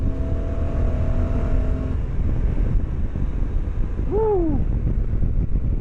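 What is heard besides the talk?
NT1100 motorcycle being ridden, engine and wind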